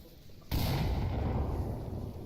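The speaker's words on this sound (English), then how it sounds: "Another nade from Rush coming out over towards Fierce." A grenade blast in the VR shooter Onward, a single sudden loud boom followed by a heavy rumbling tail that lingers and slowly fades, with no voices over it.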